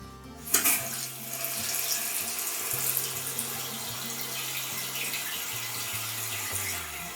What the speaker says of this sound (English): Turn the water on and check for any leaks.